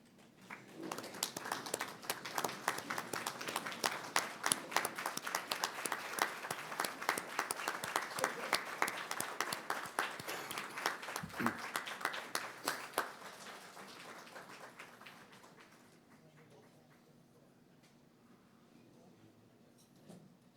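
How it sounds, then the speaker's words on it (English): Audience applause honoring an award recipient at a celebration of people over eighty, with guests standing, a lively burst of many hands clapping that holds strong, then gradually thins and fades out near the end. "may I direct your attention to Table 5 and invite those who are able to stand as we applaud Mitzi Lehner."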